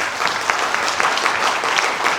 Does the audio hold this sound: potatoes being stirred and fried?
no